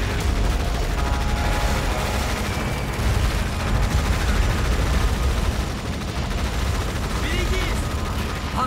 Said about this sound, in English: Artillery fire on our position.